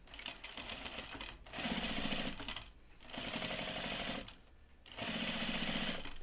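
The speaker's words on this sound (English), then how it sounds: "we're going to top stitch it down, or edge stitch it" A sewing machine edge stitches a seam on a pair of jeans through thick denim. It runs in three steady, close bursts of rapid stitching, separated by short pauses.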